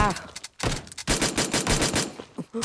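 Bursts of gunfire from the mobile game PUBG Mobile, with a pistol in use, come as several loud, close shots in quick irregular succession.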